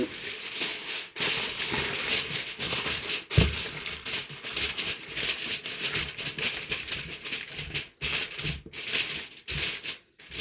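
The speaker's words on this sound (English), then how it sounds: "Just cover that with some aluminum foil." Aluminum foil crinkling and rustling as it is pressed over a dish, with irregular bursts of crackling close up and brief pauses between handling, and no voices.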